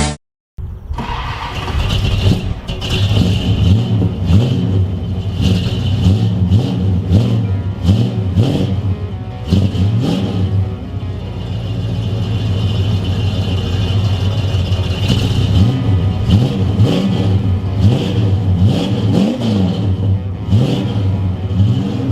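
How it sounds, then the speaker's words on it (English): A Dodge Dart with a sure-grip rear end runs on the road, its engine droning loud and close with repeated rising and falling revs as it accelerates and shifts. "Driving a Dart and it runs pretty damn good"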